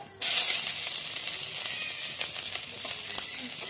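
Chopped onions dropped into hot oil in a kadai with panch phoron spices, bursting into a loud sudden sizzle that settles into steady hissing frying, with faint scrapes.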